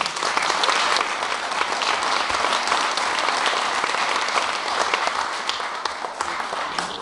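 Audience applauding a band at a live show, dense sustained clapping from a crowd filling the room, loud and steady throughout.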